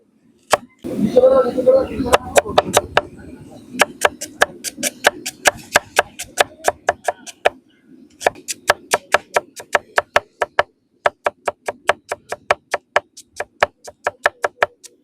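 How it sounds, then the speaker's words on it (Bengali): Onions being chopped with a knife on a cutting board for a rui fish curry, a long run of sharp, evenly spaced knocks, faster at first with a voice talking early on, then steadier taps alone. "পেঁয়াজ রুই মাছের কারির জন্য আর ওলকপির তরকারির জন্য সুন্দর করে কেটে নেব"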